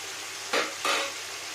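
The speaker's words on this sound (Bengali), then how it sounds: "দেখুন ফ্রেন্ডস কত সুন্দর ফ্রাই হোক" Prawns coated in salt and turmeric frying in hot oil in a pan, a steady soft sizzle with two brief louder bursts of spitting crackle, close by and without talk.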